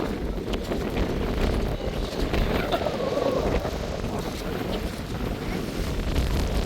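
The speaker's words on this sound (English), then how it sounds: "this is still crazy winds" Strong wind at sea off Costa Maya buffets the microphone in a constant loud roar, with waves and water rushing beneath it throughout.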